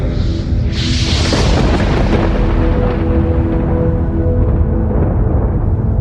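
A loud, rumbling explosion and roaring fire sound effect fills the whole stretch, a deep boom swelling at the start and then a dense, continuous crackling roar that slowly fades, with no voices.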